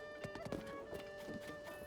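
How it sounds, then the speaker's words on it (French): Horse hooves clip-clopping in The Legend of Zelda: Tears of the Kingdom, a steady run of soft beats at moderate distance over a constant musical game background. "on a mon petit cheval qui est très bien."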